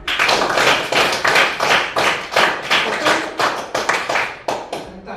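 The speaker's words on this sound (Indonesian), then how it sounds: "Tepuk 1, tepuk 2, tepuk 3, tepuk 4, tepuk 5," A rapid run of about twenty close hand claps, loud and crisp, in uneven bursts with brief gaps toward the end, and no talking over them.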